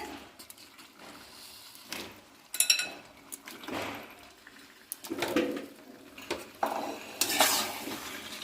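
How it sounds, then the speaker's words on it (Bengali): Mutton stirred in a pot while browning for a curry, with scattered scrapes and clinks of a metal spoon against the pan over a faint, low sizzle, louder bursts of stirring coming every few seconds. "এখন আমি মাংসকে ভালোভাবে কষিয়ে নেব কিছুক্ষণ ধরে"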